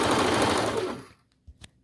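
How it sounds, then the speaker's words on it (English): A serger sews off the end of a peplum seam in a fast, loud, dense whir that fades and stops after about a second, followed by two faint clicks. "Then I like to push everything towards the back and sew off."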